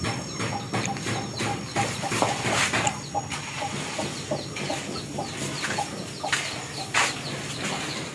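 Chickens clucking and calling together at feeding time on a small farm, a steady busy flock chorus close by with overlapping short clucks and occasional louder calls throughout.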